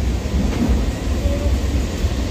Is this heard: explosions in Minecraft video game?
no